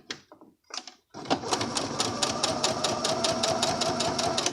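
After a few soft handling sounds, a sewing machine starts stitching horizontal rows on a scallop waist skirt, a fast even rattle of needle strokes close by and steady to the end.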